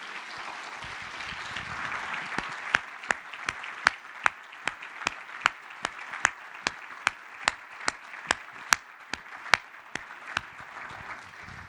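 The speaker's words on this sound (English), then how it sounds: "Let's give a round of applause to Pat Gelsinger." A leadership summit audience in Singapore claps at a moderate level, steady and even throughout, with some louder sharp claps cutting through at a regular pace.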